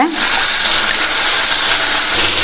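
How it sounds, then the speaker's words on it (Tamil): Salted soaking water poured off cut brinjal pieces in a home kitchen, a steady close gushing splash of liquid that runs continuously. "கத்திரிக்காயில் உள்ள தண்ணியை நல்லா வடிச்சிட்டு சேர்த்துக்கங்க"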